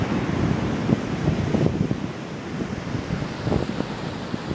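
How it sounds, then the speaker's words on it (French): Ocean waves from a swell left by a cyclone break and wash steadily along a shore, a loud continuous roar mixed with wind noise on the microphone. "je suis dans une série de vagues qui ne sont pas les plus énormes"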